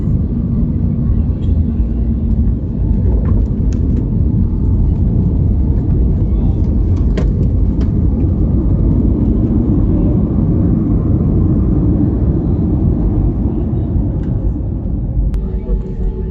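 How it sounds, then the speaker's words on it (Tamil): An airplane lands at Andaman international airport with a loud, steady, broadband rumble of engines and roll-out that holds for the whole stretch, marked by a few faint clicks. "விமானம் தரையிறங்கினதும் அதோட ரெக்கைகளில் நிகழ்கிற மாற்றங்களை கவனிங்க"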